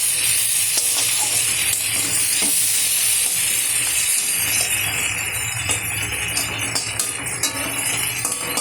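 Steady oil sizzling and spitting as crab fries in a pan, with occasional light clinks of a utensil against metal.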